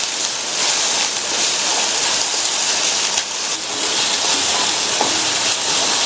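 Spiced dosa topping sautéing with a little salt in a pan, a steady broadband sizzle and hiss running continuously, close and fairly loud with no talk.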